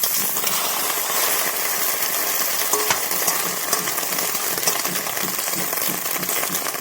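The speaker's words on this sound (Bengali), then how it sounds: "ডিমগুলো ভেজে নেবো ডিমের ঝালের জন্য।" Eggs frying in hot oil in a pan for a Bengali egg curry, giving a steady, loud, close crackling sizzle that runs unbroken throughout with no talking.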